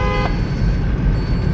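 Horn from a Hyundai Elantra fitted with a pair of aftermarket horns, a brief blast near the start that drops into steady low road and engine rumble.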